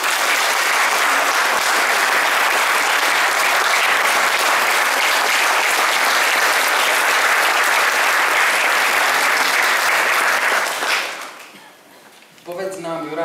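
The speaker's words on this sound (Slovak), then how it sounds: "Tak ja myslím, že mu zaslúži sa jeden potlesk pánovi Degnárovi" An audience claps for Mr. Degnár, a handball player, at a live talk event. The dense, steady applause lasts about eleven seconds, then stops abruptly and a voice begins speaking.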